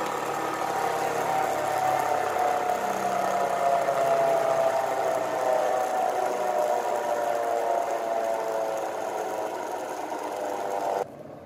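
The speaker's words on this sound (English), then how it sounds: "Here the motor is connected with the fan blade and fan blade is rotating." An axial and radial flux BLDC motor turns a fan blade, a steady mid-pitched whirring hum with a low rattle, fairly quiet and even until it cuts off abruptly near the end.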